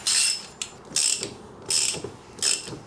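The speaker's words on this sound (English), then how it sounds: "And then we will take our handy dandy 32 mil." Ratchet wrench with a 32 mm socket tightening the threaded fitting of a TDI engine oil cooler, heard as four separate bursts of rapid clicking, close and fairly loud, with short pauses between strokes and no talk.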